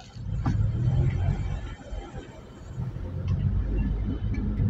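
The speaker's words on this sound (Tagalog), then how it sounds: "Traffic pa rin mga idol." Road traffic on Quezon Avenue, heard from inside a car: a low, continuous engine and tyre rumble that swells and eases, with passing vehicles dipping in and out.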